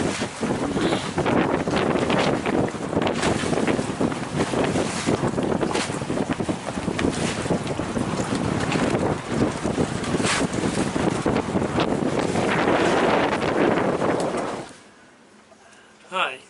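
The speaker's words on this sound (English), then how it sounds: "when you see a flag standing all the way up on its end, that tells you you're looking at least 15 miles an hour wind." Strong wind of at least 15 mph roaring across a sailboat's microphone in choppy water off the Bahamas, a continuous loud buffeting rush that drops away abruptly near the end.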